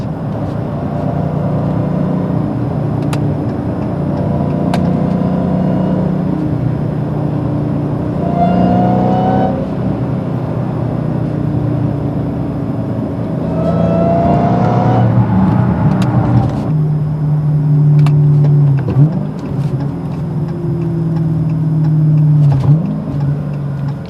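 A manual six-speed Dodge Challenger Hellcat is heard from inside the car as its engine rumbles loudly and climbs in pitch through several pulls. Gear changes break up the rising whine, and a deep, steady drone settles in toward the end.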